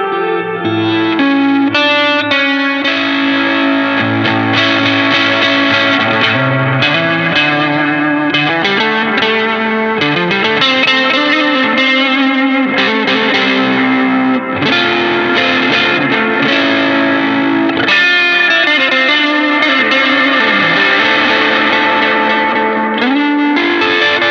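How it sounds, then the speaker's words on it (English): Electric guitar playing a lead line through a drive pedal blended with the dry signal, thick and distorted with a chorus-like shimmer, loud and continuous throughout with no talking. "Let's add the drive to the dry signal, and we're going to hear what some lead would sound like with this"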